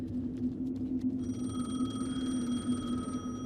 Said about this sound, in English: Phone's ringing yet again.